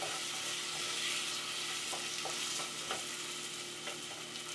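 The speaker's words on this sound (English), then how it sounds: "we're going to fry up our potatoes a little bit" Potatoes fry in hot oil in a pot, giving a steady close sizzle with faint clicks of stirring.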